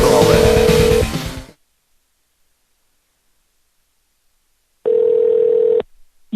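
A telephone calling back over a noisy line: a steady ringing tone sounds for about a second, then a long silence, then the ring repeats once before cutting off.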